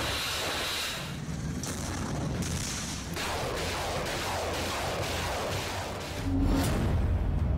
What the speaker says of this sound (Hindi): बारूदी धमाकों से फिर दहला यूक्रेन।